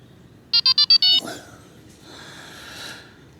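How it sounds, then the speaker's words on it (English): An electronic fishing bite alarm set on a rod at a day session by fishing pools sounds a quick burst of about five loud high beeps with a final longer tone, then fades into a softer wavering electronic tone. "that's the red alarm"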